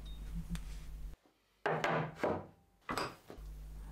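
Wood screws driven into pieces of timber while assembling a bench hook, a couple of grinding bursts of the driver biting into the wood with short pauses between, close and fairly loud.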